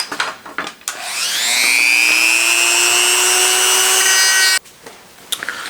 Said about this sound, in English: So I got my drill bit,